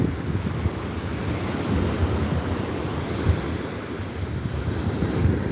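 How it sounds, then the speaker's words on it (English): Ocean waves off the Channel Islands wash in a steady, broad roar of surf, with wind buffeting the microphone throughout and no voices. "The waves are beautiful."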